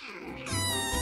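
A kitten gives a single short, high meow that rises quickly and holds briefly, heard close up over light background noise.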